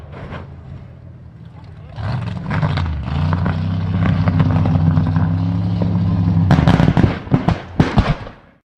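Loud popping and banging bursts from a truck, a steady engine drone with strong low harmonics running underneath, then a rapid cluster of sharp cracks and bangs near the end.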